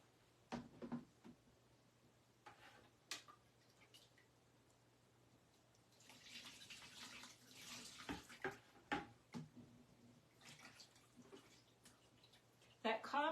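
Marbled paper rinsed under running water, a steady splashing wash in the middle stretch framed by drips and small knocks, with soft speech nearby.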